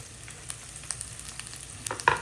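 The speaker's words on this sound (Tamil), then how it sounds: "சின்ன வெங்காயம் சேர்த்துக்கலாம்." About fifteen shallots fry in a pan for a duck fry, a soft steady sizzle with scattered clicks of stirring that builds to a louder clatter at the end, with no talking.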